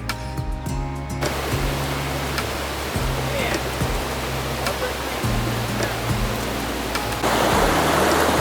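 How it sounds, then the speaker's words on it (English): Steady rushing of Alger Creek on San Gorgonio, loud and close, a continuous broadband wash with brief low thumps underneath. "we made it to Alger Creek. It's flowing really good right now."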